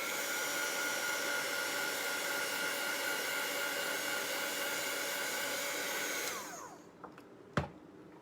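A hair dryer blows steadily over shimmer white chalk paste on a hot cocoa tray, a loud continuous whoosh that cuts off near the end, followed by a couple of faint clicks.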